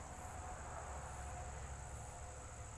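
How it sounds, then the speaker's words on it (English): Bees busily gathering pollen from scarce early-winter flowers, a steady close insect drone holding evenly throughout, with no voices. "I have never seen bees work so hard, so fast."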